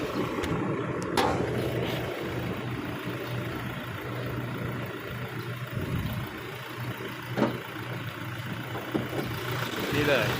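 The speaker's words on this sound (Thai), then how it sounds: "นี่ขนาดผมกำลังสตาร์ทเครื่องยนต์ไว้นะครับสตาร์ทเครื่องยนต์ไว้" A used Toyota Fortuner Legender's engine idles steadily with the hood open, a low, constant rumble throughout, joined by a few faint clicks and knocks nearby.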